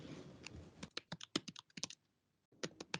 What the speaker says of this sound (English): Gavin Ritz, I think that your mic is on and we can hear you typing.